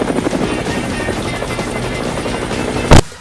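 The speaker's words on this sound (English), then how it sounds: "Rick's in a helicopter" A helicopter's loud, steady rotor thrum and engine whine fill the air nearby, then a sharp burst of noise cuts off abruptly.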